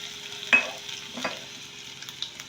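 A spoon scrapes and stirs through a sizzling mixture of chilli paste and white sesame seeds in a pan, with a few distinct scrapes over a steady, soft frying hiss.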